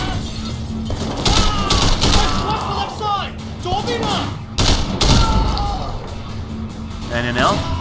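A gun firing in Sleeping Dogs during the Year of the Snake story: loud, repeated volleys of shots with crashing impacts, broken by short pauses, while someone talks excitedly over the gunfire.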